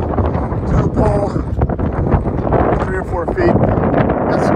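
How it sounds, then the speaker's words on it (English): Gusty wind buffets a microphone outdoors near a harbor while a quarter-wave vertical antenna is set up, a loud steady rumble with faint background voices and scattered clatter. "Got some wind here. It's going to be a windy day, so if the audio is a little troublesome"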